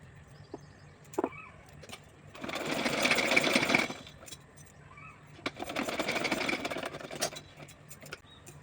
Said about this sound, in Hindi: तो चलिए इसके ऊपर रख करके इसको सिलाई लगाऊंगी इस तरह से, यहाँ से।